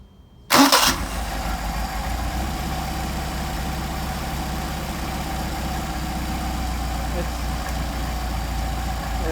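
An engine fitted with Solex carburetors turns over and catches on a hot start with a sharp burst, then settles into a steady idle that carries on to the end, loud and close.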